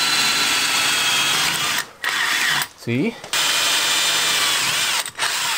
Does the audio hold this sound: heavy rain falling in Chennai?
no